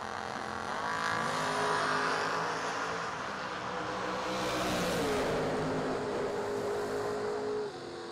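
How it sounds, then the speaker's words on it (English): Sticker dragsters at the Laris Motorsports Twin Fifties roar down the strip in a loud, sustained engine drone with rising and falling pitch as they pass, heard from a moderate distance. "Just a great drag race."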